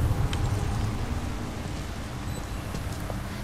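Rain falls in the Remember Me video game, a continuous, even wash of rain hissing on surfaces with occasional patters and no speech.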